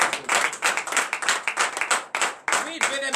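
Clapping from a church congregation in acclamation during morning prayer in Benin, a dense run of quick claps close by, mixed with voices through most of the stretch.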